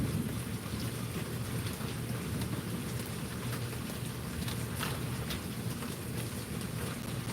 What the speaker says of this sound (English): And we're in the midst of a storm,